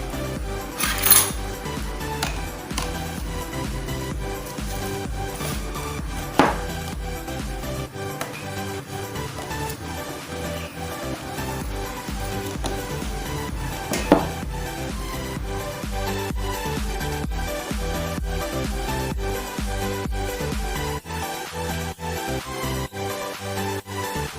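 Hot boiled potatoes are mashed in a bowl bit by bit, steady scraping and dull tapping of a utensil against the dish with occasional sharper metallic clinks, close and continuous for the whole stretch.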